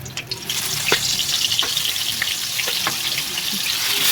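Onion paste frying in oil in a pan: a continuous bright hiss up close, with a few spatula scrapes and taps, and no voices.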